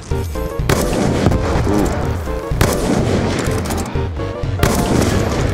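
Sniper rifle gunfire in Black Ops 2 on Xbox One, loud close booming shots set among heavy game battle noise, with sharp fresh blasts arriving about every two seconds.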